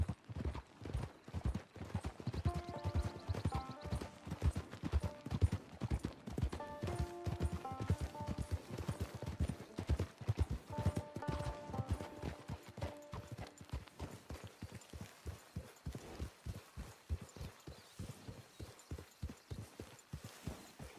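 Horse hooves clip-clop steadily on the ground in Red Dead Redemption 2, a continuous rhythmic stream of close, distinct footfalls under soft background music, slowing and thinning toward the end.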